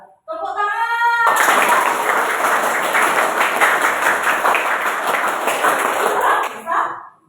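A classroom of children claps together in a sustained burst of dense, fairly loud applause lasting several seconds, preceded by a brief voice and fading out at the end.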